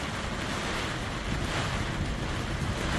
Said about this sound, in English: Sustained winds in the 40 mile an hour range right now with gusts all the way into the 60s.